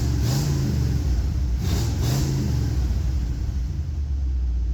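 A classic Ford 351W V8 in a catering truck idles steadily and smoothly, a close, low rumbling drone with a couple of slight throttle swells early on, no voices over it.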